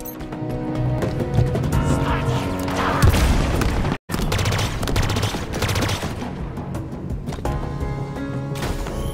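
Gunfire in the video game Halo Infinite, a sustained loud barrage of rapid shots and booms that breaks off for an instant before resuming.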